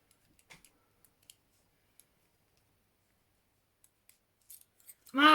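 Keys working a pair of handcuffs open: sparse, faint metallic ticks and clicks scattered across a near-silent stretch, followed by a brief louder burst at the end that sounds like a voice.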